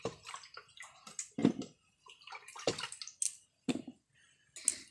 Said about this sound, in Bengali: চাটনির কড়াইটা ভালো করে ধুয়ে নিচ্ছি।